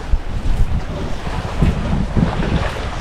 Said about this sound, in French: là on est plein vent arrière, on fait du 5 nœuds.